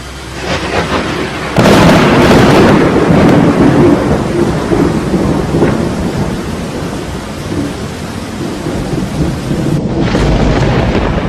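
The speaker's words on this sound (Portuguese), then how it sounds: "já se ouve ruído de abundante chuva" A heavy thunderstorm with dense, steady downpour, loud and continuous, with deep thunder rumbles and cracks rolling through, the strongest burst near the start.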